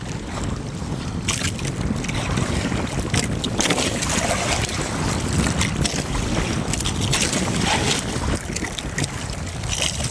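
Strong wind roars and buffets the microphone steadily throughout while net fishing, with water and boat noise beneath and no talking.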